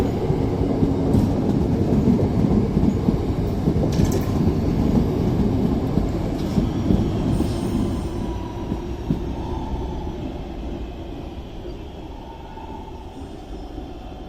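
A train pulls out of Stockport on the West Coast Main Line, bound for Crewe. A steady rolling rumble with rail clatter gradually fades as it moves away, and faint squeals and clicks come through near the end.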